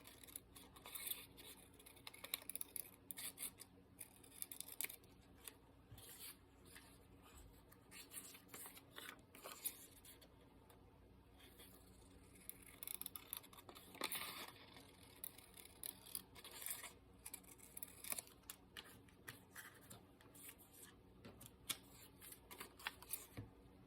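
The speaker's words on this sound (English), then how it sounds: "Squeaky scissors. I'm gonna have to get oil or something on those." Squeaky scissors snip repeatedly while preparing a beekeeping job, the crisp cutting and rubbing sounds close, busy and fairly quiet, scattered across the whole stretch with no talking.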